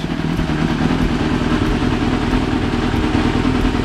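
A 1995 Yamaha YZF 750R motorcycle engine idles steadily up close while warming up, a constant low rumble with light mechanical clatter and no voices.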